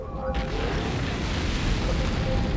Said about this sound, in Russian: Произошел взрыв.